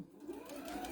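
Soft, fast whir of a sewing machine stitching a patriotic tea towel, a brief steady run heard close and quiet with no talking.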